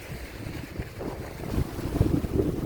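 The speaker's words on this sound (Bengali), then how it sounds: "ঝড় বৃষ্টি বাড়তেছে" Gusty storm wind on the bank of the Meghna River rumbles and buffets the microphone, rising in strength toward the end, with water and low engine-like rumble mixed in.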